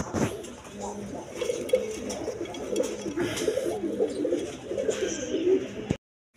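White Mumbai pigeons coo in low, repeated murmurs close by amid shuffling and scattered clatter, with a busy, noisy background that cuts off near the end.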